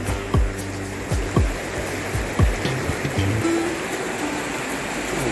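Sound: Tham Phra waterfall flowing strongly

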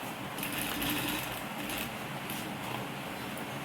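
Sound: sewing machine stitching fabric pieces

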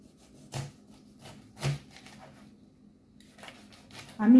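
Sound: peeling a pineapple with a knife

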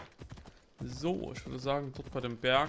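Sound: horse hooves while riding, from video game Assassin's Creed Odyssey

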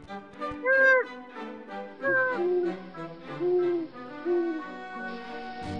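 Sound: great horned owl hooting

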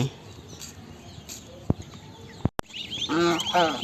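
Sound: goslings being fed chopped cabbage

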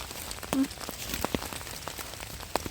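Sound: rain falling in a German forest

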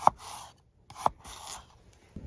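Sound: SAVA Lasun knife whittling soft wood

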